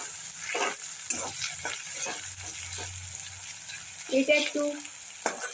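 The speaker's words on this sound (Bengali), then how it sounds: "ভালো করে ভেজে নিচ্ছি।" Tomato fries in oil for a bottle gourd curry with a steady sizzle and occasional spoon stirring, close by, while a voice speaks briefly near the end.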